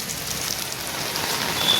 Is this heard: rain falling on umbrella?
yes